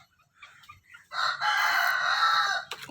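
A rooster crows loudly and close, one long sustained call after quiet soft clucking from nearby chickens on an Indonesian free-range native chicken farm.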